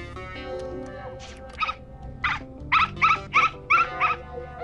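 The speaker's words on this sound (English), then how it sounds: "Right next to a noisy dog." A cartoon dog lets out a series of rough, rasping growl-barks, about eight short bursts in quick succession, loud and close over a low background score.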